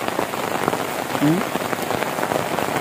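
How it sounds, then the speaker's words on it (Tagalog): Steady rain patters on a surface throughout, a continuous wash of drops with a brief low tonal sound partway through. "Nagbuntag naghapon ra ba ang ulan?"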